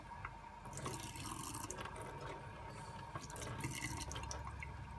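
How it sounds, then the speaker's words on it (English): Tap water runs from a faucet into a container in a household sink, a steady splashing flow with gurgles and drips that holds even and fairly close the whole time, without talk. "you'll want to fill it with just tap water"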